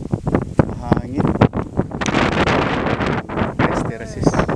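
Strong wind buffets the microphone on an outdoor trail in Capoocan, Leyte, roaring in loud irregular gusts with a person talking through it.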